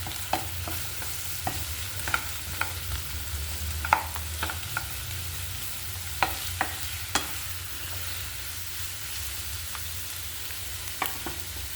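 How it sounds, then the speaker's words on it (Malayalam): Sliced onions sauté in a pan for a Kerala-style prawn roast, a low steady sizzle broken by sharp, irregular clicks and scrapes of a spoon stirring against the pan, close and moderately loud with no talking. "അപ്പോൾ ഈ സവാള നല്ല വഴണ്ടിട്ടുണ്ട്"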